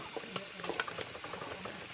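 Quick scraping and clattering of a utensil stirring food in a wok while cooking outdoors in a deep forest, with light sizzling underneath, close and brisk.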